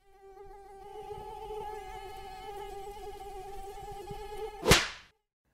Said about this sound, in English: The animal is the mosquito.